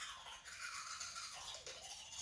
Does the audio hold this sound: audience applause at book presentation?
no